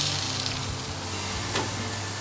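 Close, steady sizzling of vegetables on a grill, a continuous frying hiss with scattered crackles and a faint low hum underneath.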